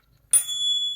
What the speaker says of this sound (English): I've got a bell here